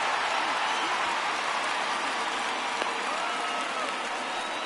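Steady rain hissing over a baseball stadium during a rain delay in the video game MLB 19, a constant, even wash of falling water with faint crowd murmur beneath and no voices.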